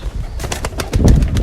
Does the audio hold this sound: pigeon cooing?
yes